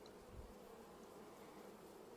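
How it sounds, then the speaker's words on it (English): Honey bees buzzing inside a new hive split, a faint, steady, close hum of many insects with no voices. "I see some brand new bees in here"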